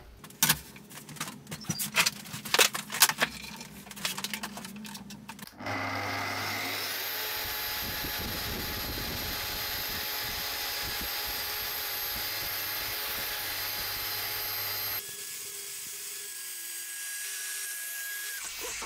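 A track saw on its guide rail trims the rail's splinter guard strip flush with the blade: after some handling noise, a loud, steady motor whine with cutting roar runs for about ten seconds, then the motor winds down alone.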